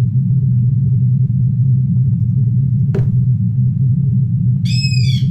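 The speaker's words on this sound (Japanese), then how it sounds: "田舎によく聞こえる鳥の鳴き声ね。" Within a video game, a short, bright bird call of a few rapid descending chirps rings out near the end over a constant low rumbling ambience, with a single sharp click shortly before.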